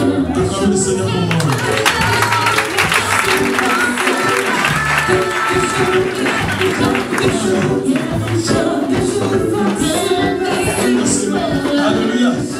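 A church congregation acclaiming the Lord at a deliverance service, loud continuous clapping and cheering crowd noise filling the room, with voices shouting and talking throughout.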